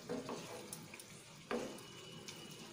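Bengali-style pineapple chutney being stirred in a pan: a few faint, brief scrapes of a spoon against the pan over a soft, quiet sizzle, with no talking.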